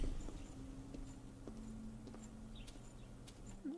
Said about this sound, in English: someone left his horse outside the gates